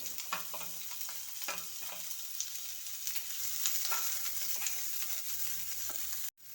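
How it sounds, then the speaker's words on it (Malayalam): Onions fry in hot oil for carrot rice, giving a steady close sizzle broken by scraping and clinks from stirring, before cutting off abruptly at the end. "എണ്ണയിലേക്ക് സവാള ഇട്ട് കൊടുക്കുകയാണ്"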